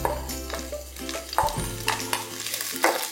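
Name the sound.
onion sizzling as it is added to the pan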